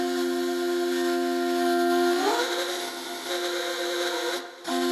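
Vocal sample reshaped by spectral granular synthesis on a synthesizer, a loud, dense sustained tone with stacked steady harmonics that bends upward midway, then holds before a brief dip near the end.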